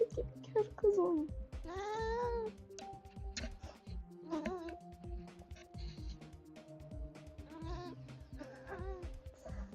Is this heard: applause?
no